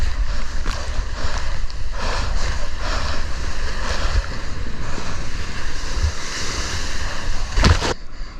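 Ocean surf rolling and crashing heard from a surfer's point of view while riding barreling waves, a continuous loud wash of water with wind buffeting the microphone and a few sharper splashes near the end.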